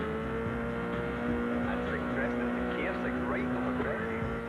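A rally car engine from the video game Colin McRae Rally holds a steady, loud, even drone, with faint higher chirps and squeals over it and no clear change in pace.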